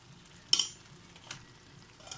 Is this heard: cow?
no